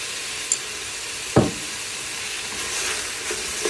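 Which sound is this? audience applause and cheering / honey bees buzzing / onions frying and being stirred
onions frying and being stirred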